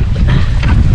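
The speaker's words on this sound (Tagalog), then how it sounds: "Malakas na yung hanging amihan." Strong northeast monsoon wind blows over a fishing boat at sea, a loud, constant roar with rushing gusts and close microphone buffeting throughout.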